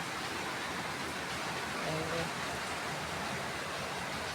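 Heavy rain pours steadily from morning, a dense, unbroken hiss of rainfall close by with no pauses and no voices, constant in loudness throughout.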